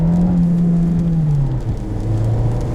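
A manual 2020 VW Jetta moves off from a stop, its engine a steady low hum that drops slightly in pitch partway through as the car gets underway.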